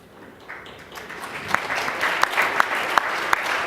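At a fireside chat event, audience applause swells from a few claps into a steady round of clapping with sharp individual claps standing out, growing louder toward the end.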